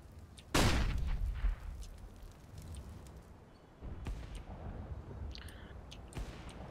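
A flashbang goes off in Counter-Strike: Global Offensive, one sharp loud bang followed by a fading ring, then quieter scattered in-game clicks and footsteps.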